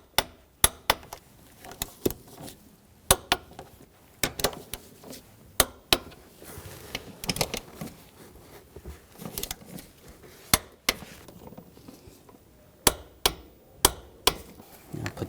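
A torque wrench tightens bolts to spec during a fuel pump assembly replacement on a 2013-2020 Nissan Pathfinder, giving sharp, close metallic clicks in irregular pairs and clusters, with quiet ratcheting between them.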